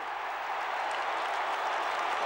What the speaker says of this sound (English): The Collingwood crowd were in a frenzy